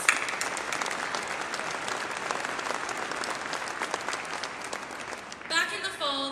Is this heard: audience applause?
yes